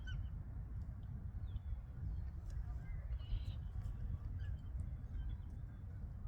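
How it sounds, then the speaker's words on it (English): A goose at a lake gives a few faint, distant honks over a steady low rumble of outdoor background noise. "Goosey Goose"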